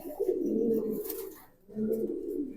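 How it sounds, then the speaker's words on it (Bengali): Jobra Pankhi fancy pigeons give two soft, rolling coos separated by a short pause, close and low-pitched, with no talking. "দেখেন কবুতরগুলো অসাধারণ কবুতর"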